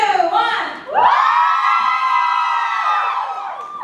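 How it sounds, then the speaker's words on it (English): A balcony audience at a festival erupts in a sustained loud cheer and whooping right after a brief spoken countdown, the crowd noise holding steady for several seconds. "Ready, cheer in 3, 2, 1!"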